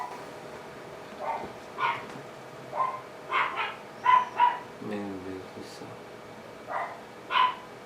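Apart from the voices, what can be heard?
dogs barking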